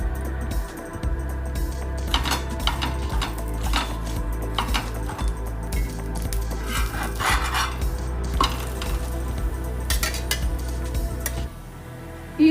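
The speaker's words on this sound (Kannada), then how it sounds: "ತವಾಗ ಹಾಕ್ತಾ ಇದ್ದೀನಿ. ಮೊದಲೇ ತವಾ ಬಿಸಿಗಿಟ್ಕೊಂಡಿದ್ದೆ." Chapati cooking on a preheated tawa with oil added to both sides, giving steady sizzling hiss under light scraping and clinking of a spatula or spoon against the pan, continuous and close throughout.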